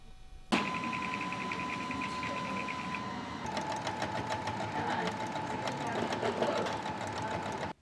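A sewing machine stitches fabric at a Bridgeport community center's sewing program for resettled refugees, a steady close whir that settles into a faster rhythmic chatter partway through, with voices in the background.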